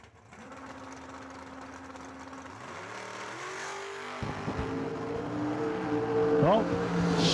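Two drag race cars, a Chevrolet Lumina and a 4th gen Camaro door car, staged at the starting line, engines droning steadily and then rising sharply as they launch and accelerate hard, loud and building over the whole stretch.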